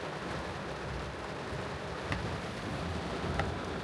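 Heavy rain pours steadily in a dense, even roar, with a couple of brief cracks of thunder.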